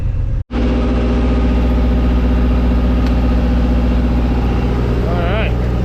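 A semi truck pulling a reefer trailer onto the road gives a loud, steady low engine drone heard from inside the cab, briefly cut out near the start, with a faint voice near the end.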